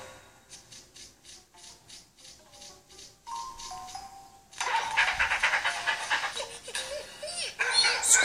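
A video game dog barks in a quick run of short yelps, then a louder burst of game noise, engine-like rumble and rubbing sounds takes over.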